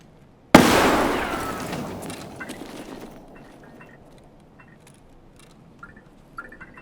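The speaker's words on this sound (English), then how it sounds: "I sent him a grenade" A grenade detonates in the Escape From Tarkov shooter, a sudden loud blast followed by a long rumbling decay lasting a couple of seconds, then quieter scattered clicks and small sounds.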